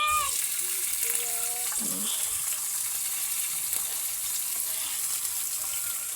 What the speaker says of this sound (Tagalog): Sibuyas. Gigisa natin yan, no?